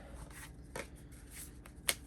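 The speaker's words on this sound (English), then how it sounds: "Shuffle the tiles up." Game tiles being shuffled by hand, soft scattered clacks and rustles with a sharper click near the end, quiet and close, no talking.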